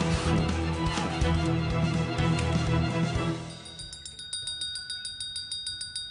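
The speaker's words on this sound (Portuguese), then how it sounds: "Ai, como sentia a falta de usar o sininho de serviço." Small service bell rung repeatedly, a bright metallic ding that pulses about twice a second in the second half, following a loud stretch of mixed background music and noise.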